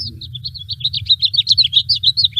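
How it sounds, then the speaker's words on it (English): A house finch sings a lively, warbling run of quick chirps and twittering notes, bright and close, with a steady low rumble beneath. "There's the house finch."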